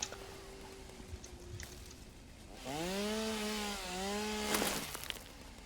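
Chainsaw in the game Satisfactory cutting down plants for biomass, a steady buzzing drone that rises in pitch and revs as it bites, heard alone with no talk over it.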